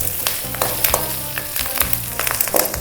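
Sesame seeds and curry leaves frying in a pan for Udupi-style pineapple gojju, a busy close sizzle with scattered sharp pops and crackles throughout.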